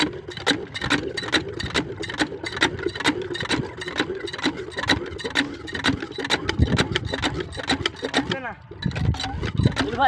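Water pump engine at a well starting up and running, a steady droning, pulsing motor sound close by, with voices talking over it throughout.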